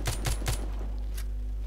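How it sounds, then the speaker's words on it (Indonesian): Gunfire from a weapon in the zombie shooter The Walking Zombie 2 aimed at a bat, three rapid loud shots in quick succession followed by a fainter fourth burst over a steady low hum. "Nih, kelawarnya kita tembak dulu, guys."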